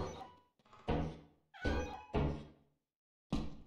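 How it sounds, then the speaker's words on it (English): A cat meows in the Lethal Company video game with a mod, four or five close, clear meow-like cries in quick succession with short gaps and a longer pause before the last. "I heard a kitty cat."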